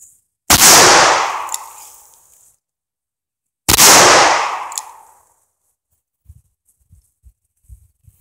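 Two sharp, loud shots from a .357 revolver firing 158-grain handloads, each with a ringing outdoor decay, spaced about three seconds apart, then a few faint distant taps and thumps.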